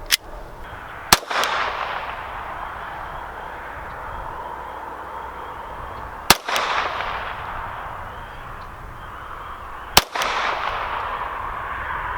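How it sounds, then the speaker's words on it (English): Three sharp, loud gunshots from a GSG Firefly .22 semi-automatic pistol, spaced several seconds apart, each one ringing off into a lingering outdoor echo. "I took 5 shots at the center target"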